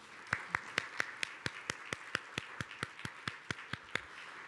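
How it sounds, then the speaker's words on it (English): Scattered applause from a small audience honoring event sponsors, sharp individual claps in an uneven rhythm, fairly quiet and heard alone without talk. "let's give all of our sponsors a big round of applause"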